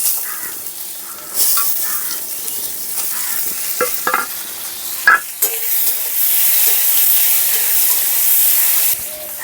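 Chopped vegetables with curry leaves frying in a pan for vegetarian sago pulao, a steady close sizzle with stirring clatter and spoon scrapes throughout, no talking.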